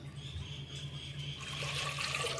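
Water gushes and splashes into a cooking pot for boiling varagu (kodo millet) rice, growing louder and fuller toward the end over a low background hum.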